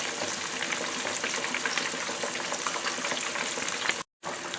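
Fish frying in hot oil, a dense continuous sizzle and crackle with splattering throughout, close and fairly loud, cutting out briefly near the end.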